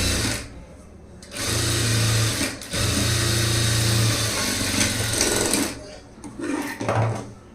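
An electric sewing machine runs in bursts as it puts a double line of stitching on a three-dot blouse, its steady whirring hum starting and stopping several times, close and loud with short pauses between runs.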